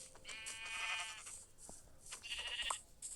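Sheep bleat several times at moderate distance, with wavering high-pitched cries coming in separate bursts and quiet pauses between them.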